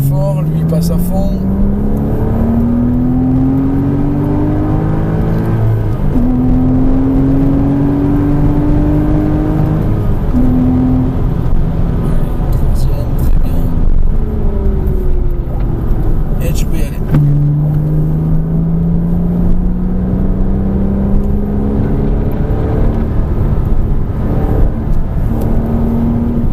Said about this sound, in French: Allez, réaccélère de plus en plus fort.